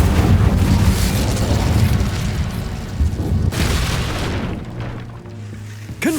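Heavy booming fire blasts from the Incendio spell in Hogwarts Legacy, loud and continuous, with a second surge midway and a low rumble fading before a final short hit.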